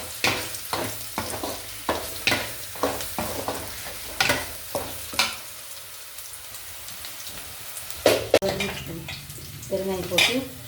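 Cooked rice stirred and scraped in a kadai, a ladle striking and scraping the metal pan in a regular rhythm of about one stroke per second, a pause, then a few louder clanks and scrapes close by.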